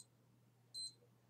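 A single short electronic beep marks a timer starting during a Minecraft session. It is faint and clean, sounding once over a low steady hum.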